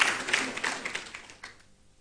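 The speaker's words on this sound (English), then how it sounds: "Please, a round of applause for him as he comes on stage." At a peace and security summit in Katsina, the audience claps at moderate volume. The applause is brisk at first and fades away within two seconds.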